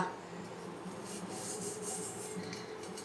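A brush scrubs gold jewelry coated with a cleaning product, producing soft, close, continuous rubbing and scratching at low volume.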